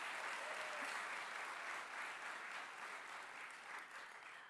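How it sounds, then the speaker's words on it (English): Audience applauding at a women's awards ceremony, sustained dense clapping from a large crowd that holds steady and tapers slightly toward the end. "Round of applause."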